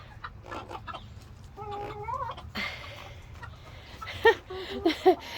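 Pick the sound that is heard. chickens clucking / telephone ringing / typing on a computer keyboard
chickens clucking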